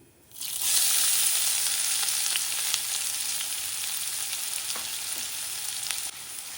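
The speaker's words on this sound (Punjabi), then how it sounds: "ਪਿਆਜ਼ਾਂ ਨੂੰ ਭੁੰਨ ਲਾਂਗੇ ਥੋੜਾ ਜਿਹਾ" Onions sizzling loudly in hot oil with ajwain (carom seeds) while making a spiced arbi (taro root) curry, a bright continuous close fry with a few faint stirring clicks.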